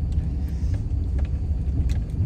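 A pickup truck rumbles along a street at night in New Orleans, a steady low engine and road drone heard from inside, moderately loud and continuous with no voices.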